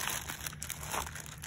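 A plastic Ziploc bag crinkles and rustles steadily up close as a clay pinch pot is packed into it, with no speech.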